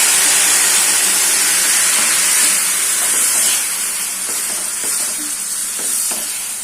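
Thick tamarind extract poured into a hot pan for a South Indian thokku sizzles and hisses loudly and continuously, the steamy crackle easing slightly over several seconds with faint stirring clicks underneath.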